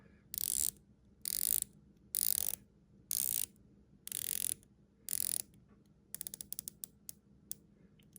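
The bezel of a Davosa Argonautic watch is turned in several bursts of quick ratchet clicks separated by short pauses, then a run of sparser, faster clicks, close and clear with no talking.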